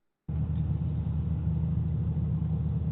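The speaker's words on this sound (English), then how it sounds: "Car sound up all right." A car engine idles steadily with a low, even rumble, starting abruptly and holding constant at moderate loudness with no other sounds.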